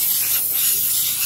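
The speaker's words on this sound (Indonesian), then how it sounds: "bolongan-bolongan ini semproti" Cleaner sprayed into the holes of a diesel fuel filter housing, a close, loud, continuous hiss lasting about a second.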